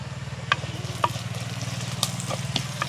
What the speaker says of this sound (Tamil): வெங்காயம் பச்சை மிளகா கொஞ்சம் வதங்கிறதுக்கு